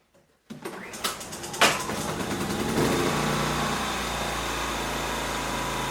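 Ryobi inverter generator starting after a click of the switch, sputtering through a couple of pulls before settling into a steady, even running hum, close by with no talking.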